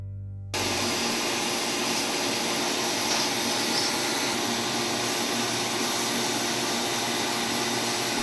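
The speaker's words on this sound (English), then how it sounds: "But the best way is to use a sandblaster, which we will do here." Sandblaster cleaning a car brake pad assembly and shims, a loud, steady hissing blast that kicks in abruptly after a brief low hum and runs on unbroken, close up, with no talking.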